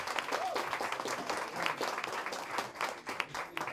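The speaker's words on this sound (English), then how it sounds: "Big round of applause, please." An audience applauds contestants after a knockout-round results announcement in a singing competition, a continuous patter of many hands clapping at a moderate distance, fairly soft overall.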